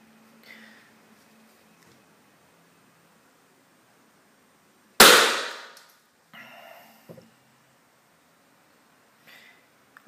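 A single loud, sharp gunshot is fired at ballistic goggles during an impact test, cracking suddenly and decaying over about a second, with faint handling rustles before and after in a quiet setting.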